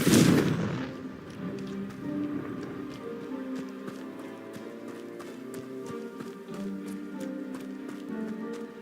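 The Confringo fire spell cast in Hogwarts Legacy opens with a loud fiery blast, which fades into a run of lighter rhythmic thuds and ticks over faint background game ambience.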